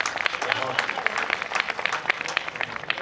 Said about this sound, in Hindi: थोड़े लोग तालियां बजाएं।